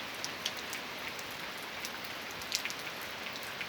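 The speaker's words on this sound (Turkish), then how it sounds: "Şimdi alaşağıda yağıyor." Steady rain falling on a surface, a dense even patter with occasional louder drops, no voices.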